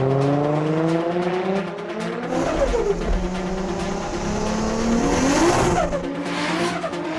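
A car drifting sideways on a wet track in the rain, engine revving and wailing up and down while tyres squeal and hiss across the surface, loud and close throughout.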